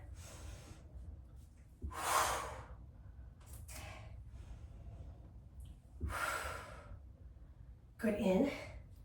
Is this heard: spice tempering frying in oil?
no